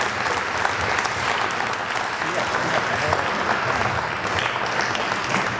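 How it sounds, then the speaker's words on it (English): Steady, full applause from an awards-event audience, dense clapping filling the room at a constant level from start to finish. "So a big round of applause for you and everybody else that made this happen."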